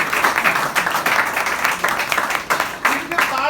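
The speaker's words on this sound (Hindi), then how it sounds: "तालियां जोर से नहीं बजा रही आप?" Audience clapping at a Hindi fortnight comedy event held at NABARD bank, a dense steady patter of many hands filling the room, with a voice speaking over it in places.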